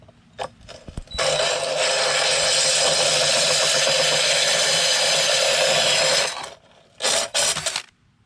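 A loud power drill with a diamond hole saw grinds steadily through hard tile for about five seconds, with short bursts of drilling and clicks before and after.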